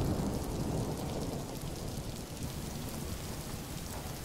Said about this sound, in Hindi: मैम एक्चुअली बाहर बहुत बारिश हो रही है